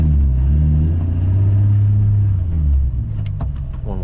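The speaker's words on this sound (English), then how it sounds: "Clutch, first gear, release the clutch, give it some more gas." Manual car engine revs as the clutch is released in first gear, a steady low rumble that climbs and holds before easing off, loud and close with no talking.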